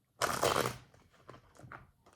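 Tarot cards being shuffled: a short, close, crisp riffling burst, then a few softer taps and card slides.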